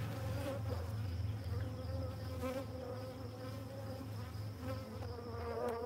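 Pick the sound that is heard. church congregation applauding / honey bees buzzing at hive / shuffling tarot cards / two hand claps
honey bees buzzing at hive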